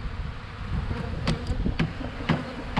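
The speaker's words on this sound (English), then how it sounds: "knock the bees to the bottom of the cage" A dense, steady buzz of many honeybees close by in a package cage, with a few sharp knocks and rustles cutting through the continuous droning hum.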